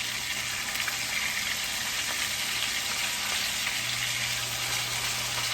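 Lamb chops fry on high heat in a steady, dense sizzle that holds evenly throughout, close and fairly loud with no talking.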